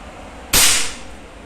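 A single sharp crack from a Predator Bocap Monolite PCP air rifle, a full-CNC gas-powered airgun, firing one shot that snaps out loudly over a steady background hiss with a brief decaying tail.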